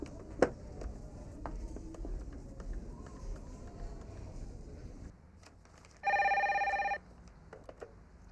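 A telephone rings once in a TV drama scene, a bright electronic ring lasting about a second, loud and alone after a stretch of quiet room sound and faint murmuring.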